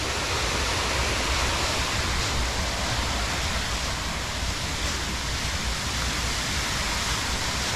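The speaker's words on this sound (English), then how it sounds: "you can see the waterfall there." A waterfall pours into an unused reservoir fed by Big Creek, a steady broadband roar of falling water that holds constant throughout without any other sound.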